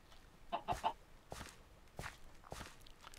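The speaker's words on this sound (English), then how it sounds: "Come on, stupid chicken. Come on, chicken." Chickens clucking in Minecraft, a few short soft clucks mixed with footstep thuds as someone walks among them, fairly quiet.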